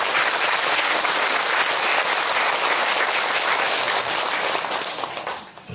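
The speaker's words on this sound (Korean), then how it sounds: "박수입니다." Crowd applauding guests being introduced at a gathering, a full, steady burst of clapping that holds evenly before tapering off at the end.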